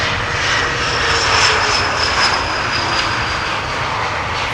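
A fixed-wing airplane roars steadily down the runway on takeoff at Amsterdam Schiphol Airport, a loud, continuous broadband engine rumble with a thin whine riding on top, heard without speech.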